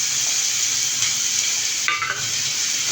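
A large onion sautés in cooking oil with a dense, steady sizzle close by, and a brief stir or scrape of the pan comes near the end.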